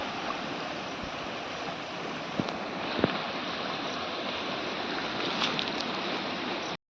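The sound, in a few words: strong river water flowing in a forest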